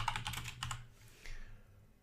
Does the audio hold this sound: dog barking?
no